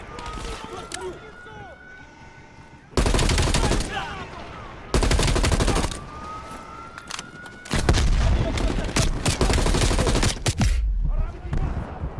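Bursts of video game gunfire in Operation Red Circus on PS4: loud, dense volleys of rapid shots that cut in and out and repeat through the stretch, with scattered player talk in between.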